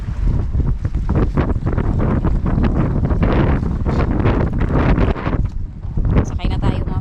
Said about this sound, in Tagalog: Dito na kami sa bangka. Ito yung itsura ng bangka.